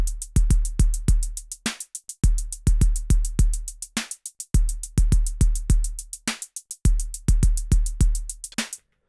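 A Pocket Operator drum machine runs a bridge-like pattern, its kicks and bright percussive hits broken by short gaps and syncopated pauses, giving a stop-start groove that is loud and close with no talking.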